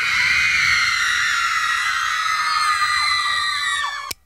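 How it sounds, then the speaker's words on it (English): A screaming machine plays back a dense crowd of teenage girls shrieking, loud and sustained high-pitched screams that cut off abruptly with a click at the end. "I got a screaming machine right here."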